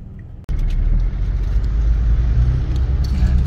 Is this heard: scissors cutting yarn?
no